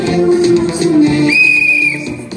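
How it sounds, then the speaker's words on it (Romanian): A sharp, sustained whistle blown as a cue on a film set during a Romanian school-themed shoot, sounding once for under a second over busy background room noise and low voices. "Acum fluier pentru cadru."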